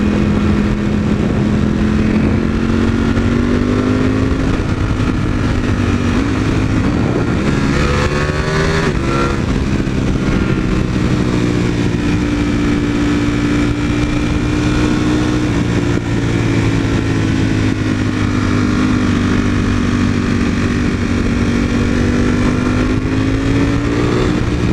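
A Ducati V4 motorcycle ridden hard, its engine droning steadily at high revs with shifting pitch as it accelerates and eases off, loud and continuous throughout without any talk.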